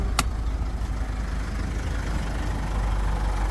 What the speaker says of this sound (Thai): ผมสตาร์ทเครื่อง